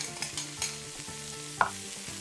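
Onion, garlic, carrots and celery sauté in a pot used for braising lamb shanks, with a soft sizzle, several gentle stirring scrapes and one sharper clink, close and quiet, no talking.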